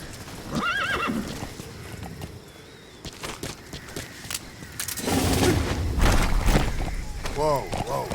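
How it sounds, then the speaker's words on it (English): A horse in the video game Metal Gear Solid 5 neighs loudly and clip-clops across open wilderness, with whinnies near the start and end, hooves and movement building through the middle, and game speech in places. "Planning to walk the whole wilderness on foot? Use your horse."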